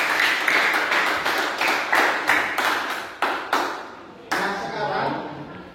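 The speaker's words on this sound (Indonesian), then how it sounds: "aplaus buat teman-teman yang sudah menjawab ya" A classroom of students claps in applause for classmates who answered, bursts of hand claps repeating in uneven waves that fade and restart, close and loud.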